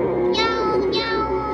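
Two drawn-out meows, close and loud, tied to a cat monster in a hide-and-seek horror video game; the meows sound like a human voice imitating a cat.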